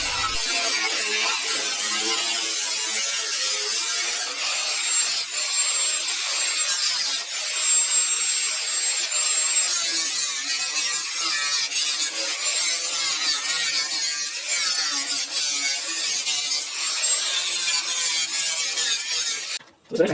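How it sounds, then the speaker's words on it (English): Old, thin metal being cut away from a John Deere mower deck, a continuous harsh grinding-and-rasping noise that runs steadily and loud for the whole stretch, close by with no voices. "Cutting off all that old metal, trying to find something good solid to weld to."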